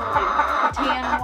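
A Muscovy duck calls up close in a few short, breathy, clucking bursts that come loud and clear.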